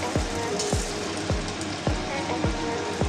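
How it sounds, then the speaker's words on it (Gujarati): A sabudana vada tikki sizzles in hot oil in a pan, a steady close frying hiss with a few sharp crackles and pops recurring at regular intervals. "એક પેનમાં તેલ મૂકીને બરાબર ગરમ કરવું. ત્યારબાદ એમાં એક ટિક્કી લઈને"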